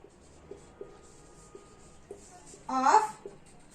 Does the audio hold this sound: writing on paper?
yes